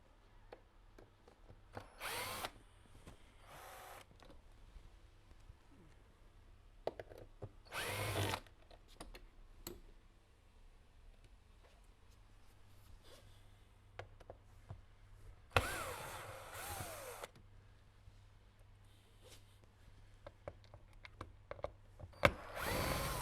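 Power drill or screwdriver backing out the screws that hold a Denver arm, in several short whirring bursts separated by pauses, clicks and handling noises. Close and fairly quiet, with no talk.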